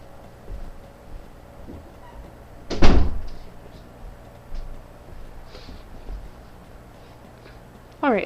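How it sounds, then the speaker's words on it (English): A door shuts with a solid thud partway through, amid quiet room noise and faint shuffling, with another knock right at the end. "let me go close my door real quick"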